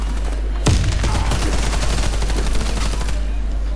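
Rapid automatic gunfire from the Warface video game, a dense burst of loud shots over a constant low hum, with faint voices in the background.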